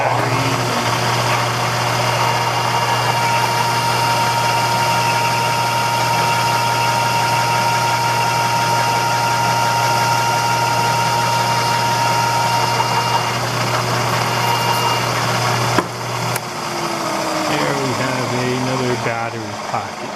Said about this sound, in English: Now we're in the middle of milling in all the pockets for all the electronics and batteries.